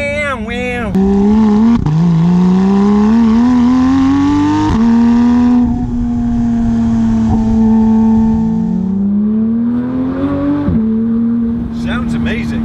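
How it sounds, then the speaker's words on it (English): A Porsche 911 GT3 with its stock exhaust revs loudly and close, the flat-six rising and falling in repeated high-pitched sweeps, with people talking over it. "It does sound great. And this is the stock exhaust as well."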